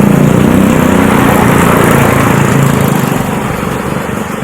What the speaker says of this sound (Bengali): কখনো কখনো একটা দুটো বাইক যাচ্ছে হর্ন দিতে দিতে।